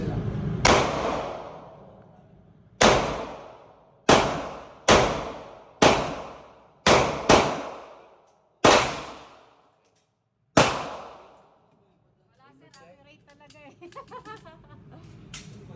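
Eight sharp pistol shots ring out at a shooting range at uneven intervals, each loud and close with a quick echoing decay, followed by faint chatter at the end.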